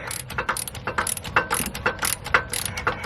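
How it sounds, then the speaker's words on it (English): An electric ratchet worked by hand like a manual one on a wide lifted vehicle gives quick, close, evenly spaced clicking ratchet strokes in bursts, with no talking. "I guess sometimes you gotta use the electric ratchet as a normal ratchet"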